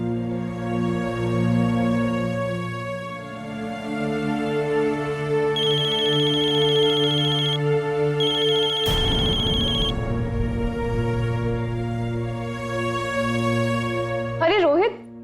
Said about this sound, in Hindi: अरे रोहित, मैं तुम्हें कब से फोन ट्राई कर रही थी, तुम मेरा फोन ही नहीं उठा रहे।